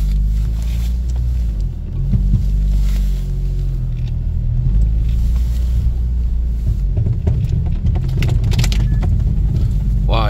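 A car driving in winter on frozen, hardened summer grip tires, giving a loud continuous low rumble and road roar from inside the cabin, with no talking.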